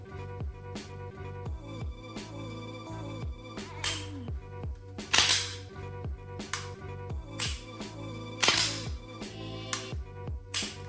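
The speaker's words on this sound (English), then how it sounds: "Let's get another trigger pull in there for y'all." Dry-fire trigger pulls on a Canik METE SFT Pro competition pistol: a series of crisp, close mechanical clicks and snaps at irregular intervals, with a few sharper, louder clacks standing out.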